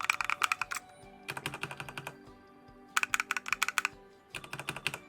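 Rapid keystrokes clatter on a homemade ergonomic keyboard in three quick bursts separated by short pauses, sharp and close with no voices.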